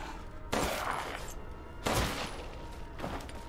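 Gunfire in Resident Evil 8 sounds as two or three loud, booming shots spaced over a few seconds, each with a long noisy tail and no speech over them.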